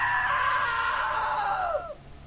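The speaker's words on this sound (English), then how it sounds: "Now that was a great scream." A single long, high scream in a narrative video game, strong and sustained before sliding downward and trailing off into quiet.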